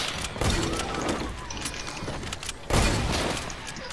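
Gunfire rings out in a Fortnite match as two loud bursts of shots and booms, the second one sharper, over a busy game-sound bed with faint voices.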